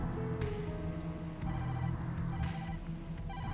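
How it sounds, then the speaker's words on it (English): A telephone rings from inside a paper bag in the video game Tokyo Dark, its muffled repeating electronic trill sounding steady over a low ambient drone, with no talking. "The ringing is coming from inside."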